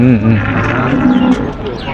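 Cattle mooing at a livestock market in Sangkha district, Thailand, with a cow and calf giving loud, close, drawn-out moos amid busy background noise.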